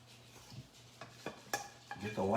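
A spoon scrapes and taps against a pot while the last of a meat sauce is ladled onto a lasagna; a few sharp metallic clinks over quiet background, ending in a louder scrape.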